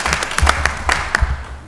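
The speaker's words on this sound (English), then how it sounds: "Let's give him a big round of applause." Brief, scattered clapping from an audience at a city council meeting in Mobile, Alabama, a few sharp claps close by over a quiet room.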